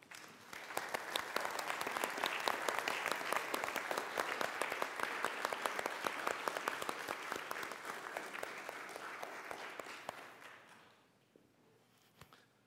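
A church congregation applauding committee members at a celebration service: steady, fairly close clapping of a modest crowd with sharp individual claps audible, tapering off after about ten seconds into quiet.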